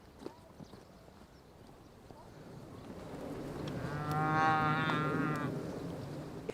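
A cow is led away with hooves clopping over ground. A long, loud moo swells midway and then fades, alongside scattered hoof knocks and some background voices.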